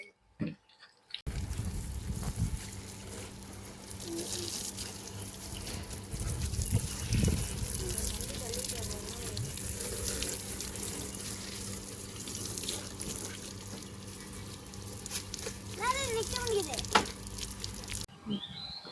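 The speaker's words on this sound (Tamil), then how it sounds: "ஆயுத பூஜை போடுறதுக்காக இந்த பாருங்க வண்டி எல்லாமே கழுவிட்டு இருக்காங்க." Water running steadily and splashing as vehicles are washed for Ayudha Puja at home, continuous and fairly close, with a few voices and a bird-like chirp near the end.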